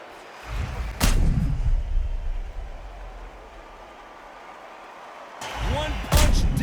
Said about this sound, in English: One punch did the trick.